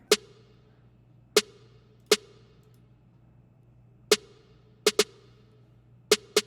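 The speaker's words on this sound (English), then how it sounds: "Now for the snare, I did use one of my own snares from my pack." A snare drum sample from a producer's own sound pack plays as sharp, crisp single hits in an uneven pattern, about seven strikes, with two quick doubles, and each decays fast into quiet.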